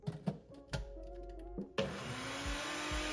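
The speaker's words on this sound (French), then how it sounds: "La quantité est tellement merdique que le Nutriboulette a du mal à mixer" A Nutribullet blender with a small amount of ingredients starts after a few clunks and knocks, then runs as a loud continuous whirring motor whose pitch rises slightly as it works.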